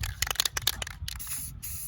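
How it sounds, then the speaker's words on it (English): Spray paint is applied to an Xbox One controller in short hissing bursts and a couple of longer sprays, close and fairly loud. "Just spray and hope it looks good."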